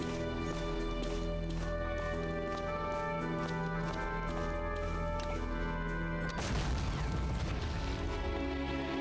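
Cannons being destroyed in the Hidden and Dangerous 2 video game, with steady rumbling game sound and tonal music that breaks into a loud, broad crash and blast about two thirds of the way through.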